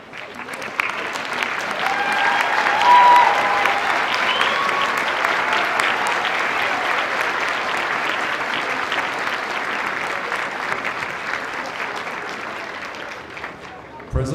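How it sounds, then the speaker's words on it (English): Sustained applause from a graduate commencement audience fills the whole stretch, a dense, steady roar of clapping that holds at an even level before ending abruptly. "I invite you to stand and to join me in applause to thank the faculty, staff, family, and friends who nurtured your passion for learning"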